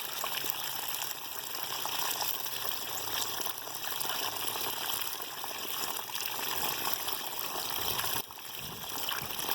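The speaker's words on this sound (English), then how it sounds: "Alright, now we're washing the plants. Get all the muck and stuff off of them." Running water pours steadily while plants are rinsed clean of muck, a close, continuous splashing gush that carries on throughout with no talk.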